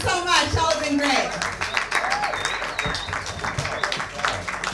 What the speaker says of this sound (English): Another round of applause for Savannah Kay.